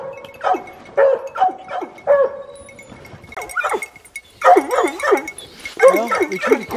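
A hunting dog on a winter mountain lion hunt barks and yips repeatedly in bursts, fairly close, with excited whining barks; a person speaks briefly in between.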